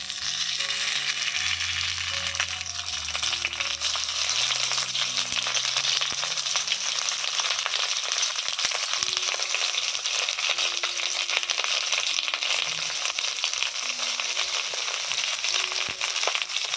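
Fish paturi wrapped in bottle gourd leaves fries in hot oil in a kadai, a loud, steady crackling sizzle throughout, with faint tonal hums underneath.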